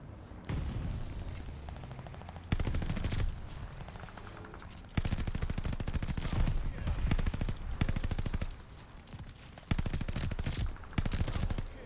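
Sten submachine gun fired in Call of Duty: Vanguard, with several loud sustained bursts of rapid automatic fire separated by short pauses and sharp in-game impact and explosion noises.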